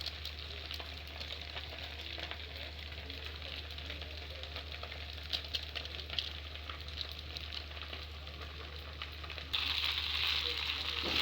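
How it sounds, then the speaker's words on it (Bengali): Pasta fries in a pan with a soft, continuous sizzle and faint stirring scrapes. The hiss grows louder near the end. "এবার এগুলো আমি একটু ভালোভাবে নেড়ে নেব"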